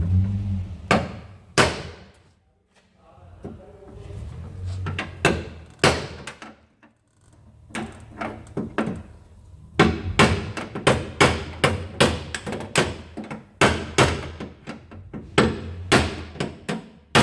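Loud, close hammer blows strike damaged metal on a crashed Nissan Skyline R31 drift car, in irregular bursts of sharp bangs, speeding into a quick rhythmic series in the second half.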